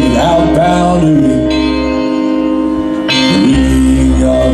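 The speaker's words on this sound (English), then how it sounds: "The ringing of the division bell had begun." Division bell ringing loudly and continuously, sustained metallic tones with a brief dip and renewed strikes partway through, heard alone without speech.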